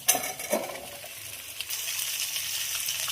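Pieces of bottle gourd are dropped into hot oil that already holds onion, garlic, green chillies and bay leaves, giving a few sharp clatters at the start and then a steady, close sizzle.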